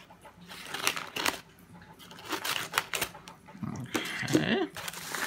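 Paper and plastic packaging rustling and crinkling up close as a surprise parcel decorated with pumpkin and leaf stickers is torn open, with irregular bursts of tearing and handling at moderate volume and no talk.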